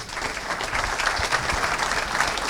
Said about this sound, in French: Eh bien, on peut les applaudir.